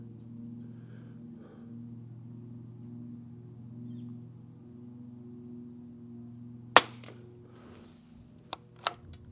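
A Walther Model 2 .22 LR rifle fires one sharp, loud shot in bolt-action mode on an outdoor range, followed by a few brief metallic clicks over a steady low hum.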